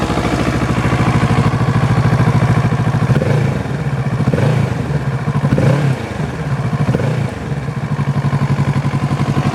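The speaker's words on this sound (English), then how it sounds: "the bike will idle fast for about a minute or so with the fuel injection" A 2017 Kawasaki Z650 motorcycle with fuel injection idles fast just after starting, a loud, close, steady pulsing engine note with a few brief blips of throttle midway, no talking over it.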